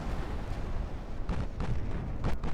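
Muffled ammunition detonation on a warship in the naval strategy game Ultimate Admiral Dreadnoughts, a dense rumbling roar with a few sharper bursts layered over sustained low booming, heard alone.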